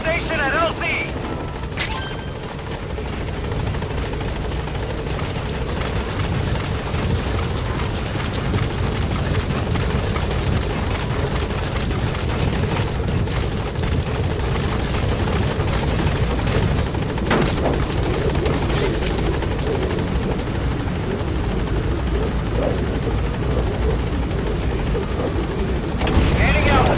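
The B-Quad support helicopter in Metal Gear Solid V arrives at a landing zone with a loud, steady rotor roar and engine drone that persists throughout, and faint radio speech mixed in.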